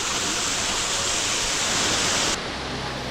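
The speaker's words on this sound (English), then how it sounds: "Right, this is that first little log cascade." A small cascade of water tumbles over logs on a bush track, a steady loud rushing hiss that drops slightly in level near the end, with no voices.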